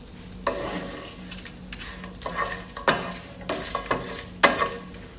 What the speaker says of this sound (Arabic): تسمعون صوت اللحم شلون كريسبي؟